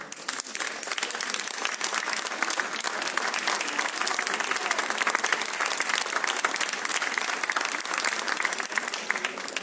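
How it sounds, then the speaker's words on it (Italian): An audience gives sustained, dense applause at a cultural award event in Città della Pieve, a continuous wash of many hands clapping for about ten seconds with no talk over it. "Quindi veramente chiederei per lui un grandissimo applauso"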